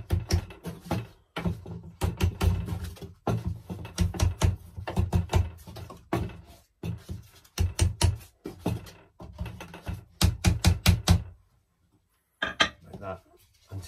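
Wooden canvas keys are tapped into the corners of a painting canvas stretcher with a heavy tool, giving bursts of sharp, close knocks in quick clusters with brief pauses between, ending in a short silence and a few faint taps.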